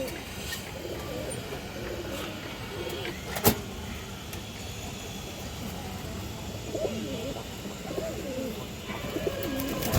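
Pigeons coo softly in the background amid a steady hum of traffic, with a brief sharp click partway through; a red khaki female pigeon among them.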